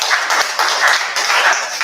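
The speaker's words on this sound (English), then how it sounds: "Let's give our Toastmaster of the day a huge round of applause." Clapping from a small audience at a Toastmasters club meeting in Bangalore, heard as close, fairly loud bursts that swell and dip in an uneven pulse, with no speech over them.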